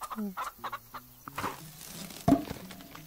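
Chickens clucking in the farming video game Farm Together, a close run of short repeated clucks and fowl calls over a steady game background.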